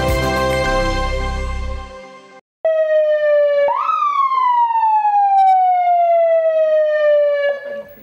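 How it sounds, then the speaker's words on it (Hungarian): An ambulance siren at a ceremonial occasion in Hungary's Nagykunság region starts with a short horn-like tone, then rises into a loud, close wail that slowly falls in pitch. "A sziréna és a villogó fény ezúttal nem segíteni siető mentőautót jelent"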